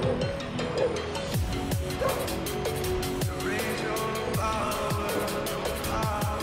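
Dog barking repeatedly in a rhythmic series of sharp, loud barks with some yips, close by, over steady background noise while riding in the Amazon rainforest.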